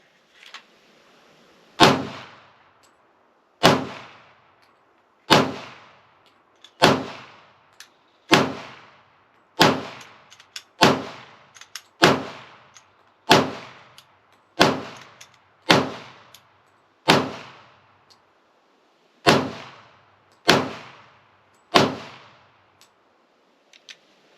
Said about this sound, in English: I'm going to put a couple rounds down range here.